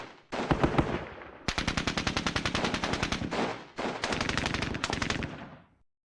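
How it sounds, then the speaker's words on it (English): Rapid bursts of automatic gunfire from the Squad Battles Eagles Strike war game. Three loud, sustained volleys of evenly spaced shots are separated by short gaps, with no voices. "You can still fire, so go ahead and fire."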